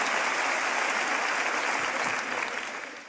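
Audience applause following a comedy imitation on a French stage show, dense and sustained for about three seconds before starting to fade at the end.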